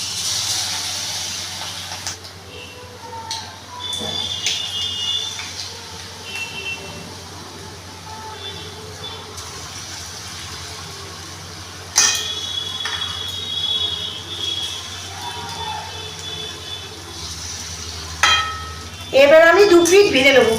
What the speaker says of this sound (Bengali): পনিরগুলো ব্যাটারে ডুবিয়ে তেলে ছেড়ে দেবো।